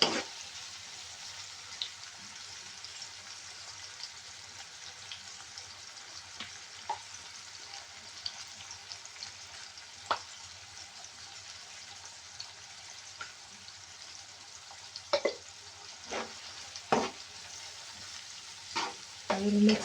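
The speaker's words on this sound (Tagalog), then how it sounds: "I will mix it." Vegetables and tofu with tomato ketchup being stirred in a sizzling pan, a steady soft frying hiss under occasional clinks and scrapes of the utensil, close and fairly quiet.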